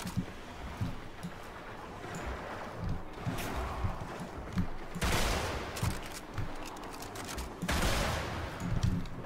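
Video game gunfire from an enemy shooting at the player, scattered rapid shots and bursts at moderate loudness, with sharper loud volleys rising above a busy rumbling battle background.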